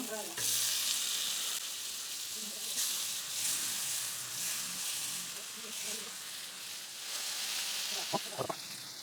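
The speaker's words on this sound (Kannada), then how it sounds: "ಈಗ ಎಲ್ಲನೂ ಹಾಕ್ಕೊಂಡು ಆದಮೇಲೆ 1-2 ನಿಮಿಷ ಅದೇ ರೀತಿ ಚೆನ್ನಾಗಿ ಎಲ್ಲನೂ ಫ್ರೈ ಆಗಲಿ" Cleaned fish pieces that were fried earlier go back into a pan together and fry, giving a steady, bright hissing sizzle, with a few sharp knocks near the end.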